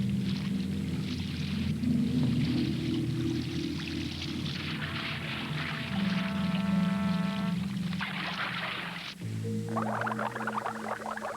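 Air bubbles rising underwater around a diver's lamp during a wreck dive on the Andrea Doria, a steady bubbling, gurgling wash mixed with low rumbling and brief tonal hums, continuous and close.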